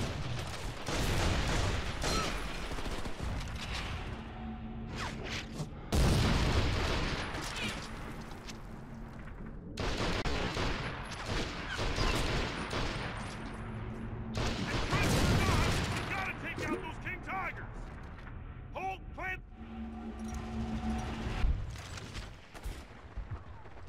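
Bursts of heavy gunfire and booming explosions from the PS2 game Medal of Honor: European Assault, Battle of the Bulge mission, loud and dense, coming in waves with brief lulls, a voice occasionally underneath.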